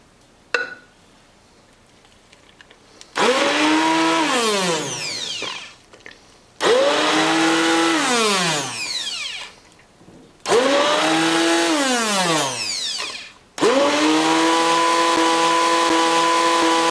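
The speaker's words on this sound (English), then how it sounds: "with the help of blender, and now we're going to do the same process" A kitchen blender whirs through saag made from mustard greens, starting up loud and close in four separate bursts that each wind down before the next, with no talking.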